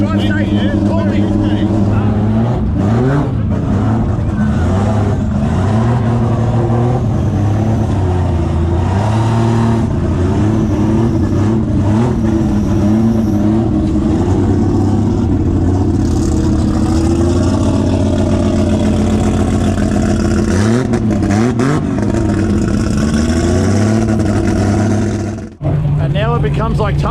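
A car at a street car festival revs hard and accelerates away, its engine note climbing and falling in repeated loud sweeps, with voices talking nearby.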